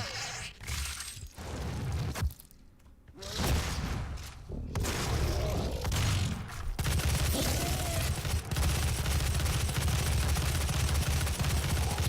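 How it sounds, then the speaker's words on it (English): Dense gunfire from a shooter game set in the destroyed Argent Facility in DOOM: loud, sustained bursts and blasts that break off briefly, then return as a continuous roaring barrage through the second half, with no voices. "Just wasting all my bullets."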